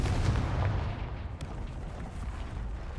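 The Confringo fire spell in Hogwarts Legacy lets out a loud, sustained, rumbling blast that fills the whole stretch with dense explosive noise and a brief sharp crack partway through.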